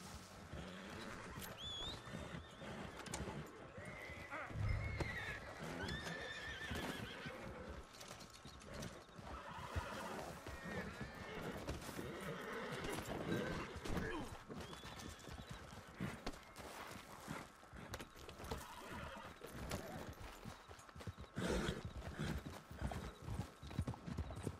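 Horse hooves clip-clopping continuously in the Red Dead Redemption 2 online video game, with occasional neighs and whinnies over rattling tack and mechanical clicks, busy and fairly close throughout.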